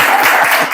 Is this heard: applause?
yes